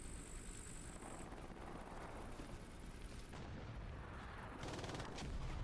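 Machine gun fire in a trench-combat video game, a rumbling distant barrage of shots and booms continuing throughout, fairly faint and steady with a stronger burst near the end, no talk.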